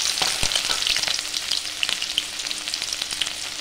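Sliced shallots fry in oil with mustard seeds for a Tamil mochai kulambu, a bright, close crackle dense with sharp pops and spits throughout the short stretch, no voices.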